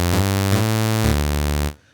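A bright, buzzy sawtooth tone from an analog oscillator in the UVI Falcon software synth plays loud and sustained, changing pitch a few times before stopping abruptly, with no voice.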